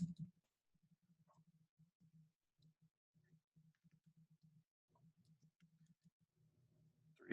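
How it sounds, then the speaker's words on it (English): Quiet, rapid computer keyboard typing and mouse clicks while filling a text box, in uneven bursts of soft taps with short pauses and a louder knock at each end. "So you would just click into your text box and start typing"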